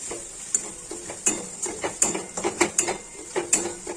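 Spoon stirring Kashmiri chilli powder through chicken pieces for a fiery red Bengali chicken curry, a run of scraping, clicking strokes in a quiet pan with a faint sizzle beneath, close and fairly soft.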